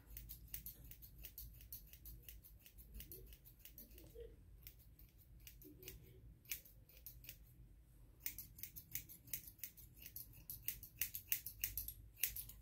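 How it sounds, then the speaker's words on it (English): Shears snip bangs on a synthetic wig, a steady run of crisp, close cuts that quicken and grow louder toward the end over a faint low hum. "So what I do is just cut right up into them this way."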